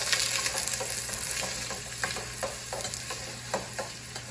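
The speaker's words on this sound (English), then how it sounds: "But they're sizzling." Onions and bell peppers sizzle in hot oil in a pan, giving a steady close hiss with light crackles and a few scraping stirs for an Indian butter chicken.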